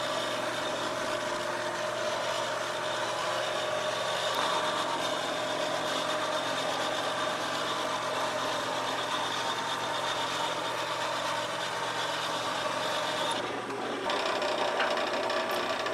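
A wood lathe runs steadily while friction polish is worked into a turned Christmas ornament with a cloth. The motor hums evenly with a faint rubbing hiss layered over it, close by, with a brief dip near the end and no speech.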